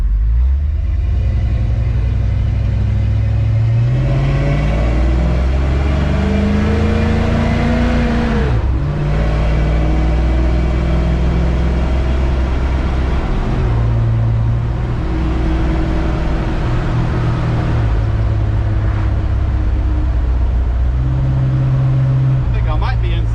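A 1970 Dodge D100 truck with a V8 and carburetor rumbles steadily while driving, its engine note rising and falling through gear changes, loud and continuous from inside the cab with occasional speech over it.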